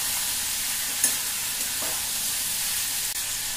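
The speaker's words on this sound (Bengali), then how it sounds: "এবার একটু ভাজা ভাজা করে নিই মশলাগুলো দিয়ে" Ground turmeric, cumin and chilli powder fry with a steady, close sizzle in a pan, with a couple of faint stirring clinks over the hiss.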